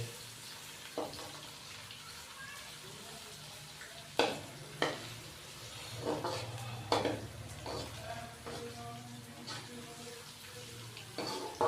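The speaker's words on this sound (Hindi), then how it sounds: "अदरक और लहसुन के पेस्ट को अच्छे से मिक्स करेंगे और 1 मिनट के लिए इसको फ्राई करेंगे" Steady soft sizzle of ginger garlic paste frying in oil, with occasional scraping and stirring clatters from a spoon against the pan.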